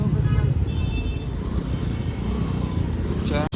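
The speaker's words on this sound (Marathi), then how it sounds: "ट्रॅफिक बघा केवढं मोठं आहे" Dense road traffic in Pune, a steady loud wash of car and motorcycle engines heard from within the flow, with a brief horn-like tone near the end and a voice talking over it.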